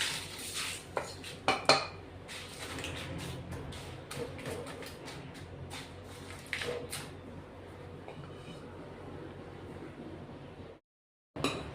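Roasted chillies and whole spices such as fennel and cumin tumble into a masala mix, with metal pan and spoon clinks and rattles, busiest at the start, then a quieter rustle before a brief silence.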